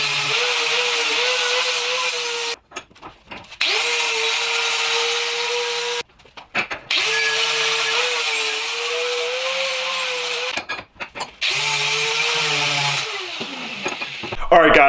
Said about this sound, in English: We're gonna take all these burrs off here with this nice 4-inch grinding wheel.